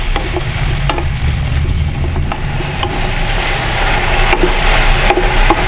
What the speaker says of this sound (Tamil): இதை இப்போ இதோட சேர்த்துக்கலாம். இப்போ நல்லா வதக்கலாம்